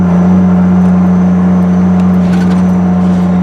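Dodge Cummins diesel pickup truck driving while hauling an oilfield engine, a steady loud low engine drone with strong hum and constant road noise throughout, no voices.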